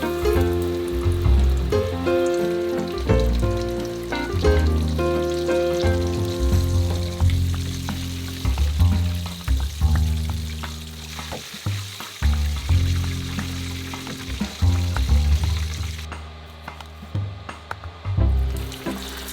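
Lemon chicken pieces deep-fry in hot oil, a loud, close, continuous sizzle and crackle with bursts of bubbling and faint stirring clinks, settling quieter toward the end.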